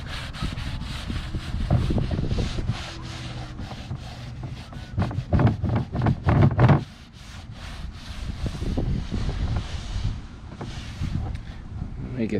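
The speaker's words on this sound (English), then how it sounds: "get some sandpaper and sand that a little bit" Sandpaper is rubbed by hand over a 1995 Ford F150 dashboard, giving close, rhythmic scratchy back-and-forth strokes, a fast burst in the middle, then softer steady rubbing.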